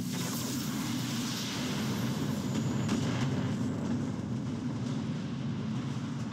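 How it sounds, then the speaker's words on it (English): A turret blowing up in the background during a Battletech battle, heard as a dense, continuous low rumble with broad roaring noise that swells slightly midway and never drops off. "And there goes that turret right there. Boom! You saw it blow up in the background."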